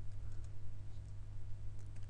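Quick, faint keystrokes tap out a short command on a computer keyboard over a low steady hum, the clicks coming in a brisk, uneven run.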